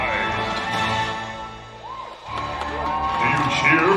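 A theme park crowd at a villains show cheers, whoops and shouts, a dense roar of many voices rising and falling, dipping briefly before swelling again, with an amplified voice also heard.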